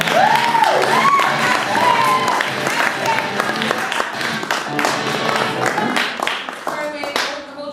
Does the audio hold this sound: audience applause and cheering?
yes